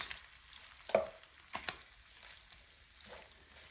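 Smothered sardines fry softly in a pan while being stirred, a low sizzle under a few scraping utensil strokes and light knocks.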